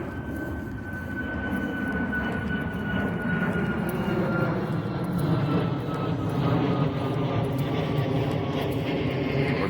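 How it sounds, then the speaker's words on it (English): A steady roar of jet aircraft fills the air, broad and continuous, rising slightly as planes climb away nearby. "You hear all the planes taking off."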